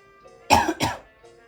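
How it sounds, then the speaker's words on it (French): A person gives two quick, harsh coughs in close succession while lighting a Romeo y Julieta Linea de Oro Nobles cigar, loud and near against a quiet room with a faint steady hum. "Je tousse encore un peu"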